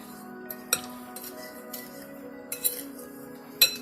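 A metal utensil clinks against a glass dish while peach pudding ingredients are combined, a few sharp scattered taps and scrapes over a quiet kitchen background.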